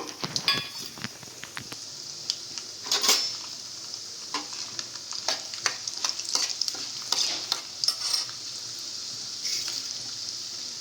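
Tempering seeds crackle and sizzle sharply in hot oil, a busy popping hiss with scattered louder spits and a few spoon clinks against the pan.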